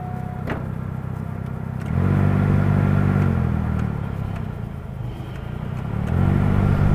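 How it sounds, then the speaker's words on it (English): A blower fan in a Chevy Silverado runs after a fan controller repair, giving a steady low whir and hum inside the cab that steps up to a louder, higher speed partway through, drops back briefly, then rises again. "the blower is working"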